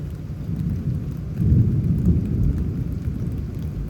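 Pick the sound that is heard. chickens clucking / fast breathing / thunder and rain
thunder and rain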